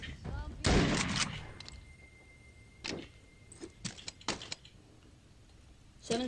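Gunfire in the VR game The Walking Dead: Saints and Sinners, a loud burst of shots early on, then several more spaced sharp cracks close by, mixed with a voice talking.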